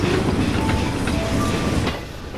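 A train rolls past at close range, a loud steady rumble with wheel clatter and a faint screech, easing off near the end.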